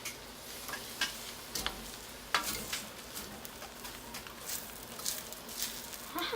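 Teriyaki shrimp stir-fried in a new wok on high heat, a steady close sizzle with intermittent scraping and clicking stirs at an irregular pace.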